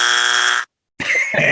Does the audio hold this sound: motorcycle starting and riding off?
no